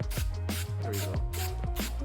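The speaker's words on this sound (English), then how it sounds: "I'm gonna spray down a third coat." A spray gun applies a coat of paint in an engine bay, its hissing bursts repeating in quick succession over a steady rhythmic background.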